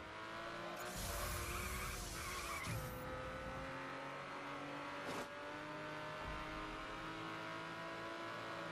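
Car racing and skidding in the video game The Crew, with a continuous engine drone, rising tire squeals and screeches around the first three seconds, a sharp skid burst near five seconds, then steady driving.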